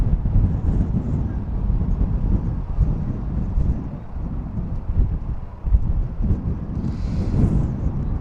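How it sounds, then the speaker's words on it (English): Strong wind buffets the microphone outdoors during a drone flight over Bexleyheath, London, a steady low roaring rumble with gusts that swell and ease throughout, loud and close, with no voices. "you can hear the wind right now."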